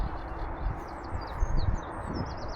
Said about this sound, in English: Now the sedge warbler calling there.